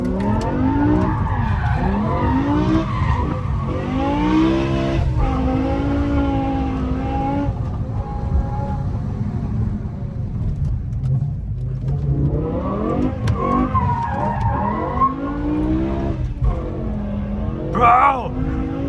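A BMW M6 with a V10 engine slides sideways through a corner, engine roaring loudly and continuously with rising and falling revs and tire noise throughout, while a person talks over it.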